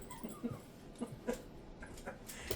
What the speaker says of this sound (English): Goofy dog is playing.